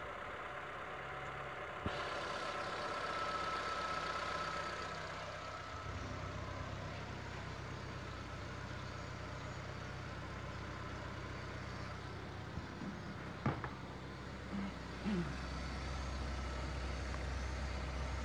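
A Mitsubishi T120SS engine idles cold at about 1000 RPM, a low, steady, faint rumble that holds evenly throughout, with a couple of brief clicks and knocks nearby.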